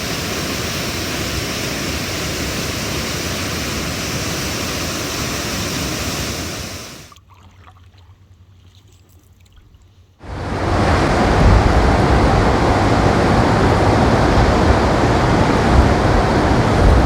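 Chaudière Falls roaring as a steady, loud, broadband rush of falling water, cutting out abruptly for about three seconds before resuming at full strength.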